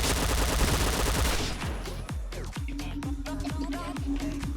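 Rapid automatic gunfire in a multiplayer shooter video game, a dense burst followed by a string of sharp, evenly spaced shots with ringing tails, loud and close, without speech.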